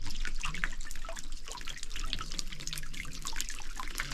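Water running out of rocks in Mauritania, a steady close splashing and trickling flow with dripping detail, continuous and fairly loud throughout, no talk.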